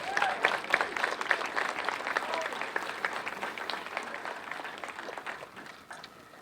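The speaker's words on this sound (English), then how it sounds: "Let's give them another round of applause." Applause from an elementary school fifth grade graduation audience for students recognized with awards, a steady dense patter of many hands that holds for several seconds and slowly tapers.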